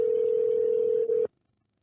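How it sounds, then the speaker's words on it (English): A steady telephone tone sounds while a call is being placed, holding one even pitch for just over a second with a brief dip near the end before stopping abruptly, heard alone. "All right, Henry, here comes a phone call for you."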